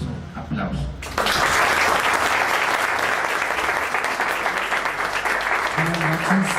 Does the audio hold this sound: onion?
no